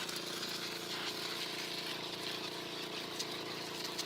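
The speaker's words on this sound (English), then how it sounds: "It's actually quite noisy for a 12-volt jet washer." A small 12-volt electric jet washer cleaning a yacht runs with a steady, buzzing motor whine and hiss, constant and fairly close, with no pauses.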